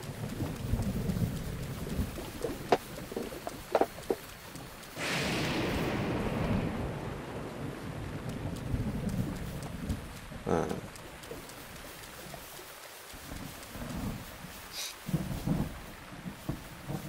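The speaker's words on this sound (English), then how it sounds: "it's going to rain" Steady rain pours down in the video game Zelda: Breath of the Wild while a deep rumble of thunder rolls in, with scattered patters and drips continuing afterward.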